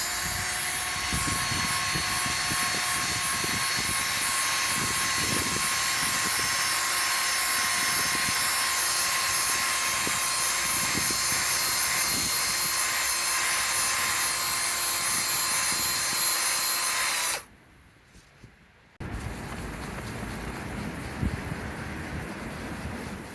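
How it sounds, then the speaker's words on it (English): Drill with a polishing attachment buffing a Sony Vaio VPCEB23FG laptop lid with paint renovator, a loud continuous whirring drone with steady tones for about seventeen seconds, stopping briefly, then starting up again. "I've got some paint renovator and a drill, and I'm going to see if I can polish it out"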